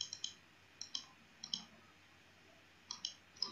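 Sharp computer mouse clicks on a login button during an online ICICI Bank payment on a counselling form, coming in close pairs and singles with pauses between, crisp and alone in a quiet room.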